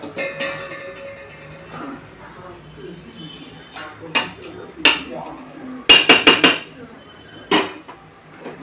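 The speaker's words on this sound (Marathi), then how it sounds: "आता आपण या स्टेजला ह्याच्यामध्ये धुतलेले स्वच्छ निथळत ठेवलेले तांदूळ टाकायचे आहेत" Washed, drained rice tipped into a pressure cooker pot holding sautéed spices for chhole bhaat, with metallic clanks and scrapes of utensils against the pot while someone talks over it.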